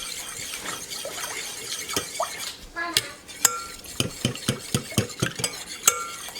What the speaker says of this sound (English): And we mix until dissolved.